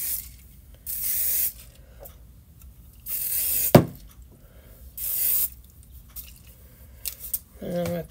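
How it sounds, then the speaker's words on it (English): Hairspray hisses onto straightened hair in four short, sharp bursts separated by pauses, close to the listener, with a few soft handling rustles between sprays. "I'm just going to put a little hairspray on it."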